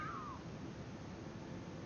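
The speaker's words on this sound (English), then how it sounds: "Oh, there's a cat. Let's love the cat." Cat in the video game Rumu giving a single short, faint meow at the start over a low steady background hum.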